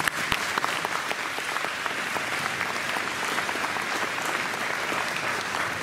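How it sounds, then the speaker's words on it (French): A crowd gathered to support a family breaks into loud, sustained applause, with dense, close clapping that holds at a steady level throughout. "Applaudissez-vous, s'il vous plaît."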